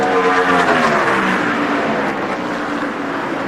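NASCAR stock cars race past at the 2002 UAW GM Quality 500, a loud sustained engine roar that swells and then eases slightly as the pack sweeps by.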